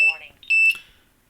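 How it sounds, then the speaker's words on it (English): A drone flight controller buzzer sounds failsafe warning tones during a Cleanflight failsafe, two clear electronic beeps close up with a short gap between them, over faint background. "the buzzer is also buzzing the beep tones."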